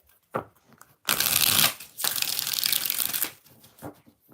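Tarot cards are shuffled by hand in quick riffling bursts, a short flick followed by two longer rustling runs, close and fairly loud with no talking.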